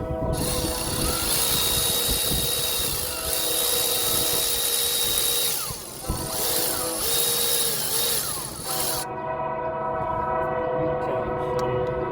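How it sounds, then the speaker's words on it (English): A power ratchet removes water pump bolts on a Geo Tracker, giving a loud, close, continuous whirring buzz that holds for several seconds before cutting off, leaving quieter background noise. "we're just going to use the power ratchet because this thing's awesome"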